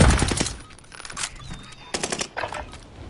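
Bursts of rapid automatic gunfire from an online video game kill race, loud and close, coming in clusters with brief gaps and faint background voices.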